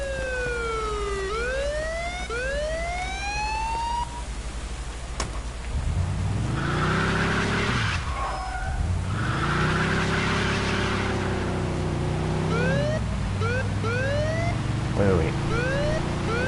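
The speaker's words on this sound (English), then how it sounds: "That's the sound of the police." A police car siren wails in the Mafia 2 video game, rising and falling tones that fade in and out while a car engine drones underneath.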